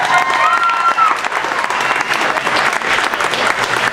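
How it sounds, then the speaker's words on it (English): An audience at a Zombie Prom comedy hypnosis show bursts into loud, dense applause that rolls on steadily for several seconds, many hands clapping at once close by. "Give them a big round of applause, everybody"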